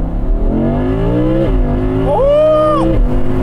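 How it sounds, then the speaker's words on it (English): An Audi R8 Spyder engine is worked hard under load in a high gear, its loud exhaust climbing through the revs, briefly peaking before dropping, heard close and dominant. "be thrashing the engine to get some great noises out of it"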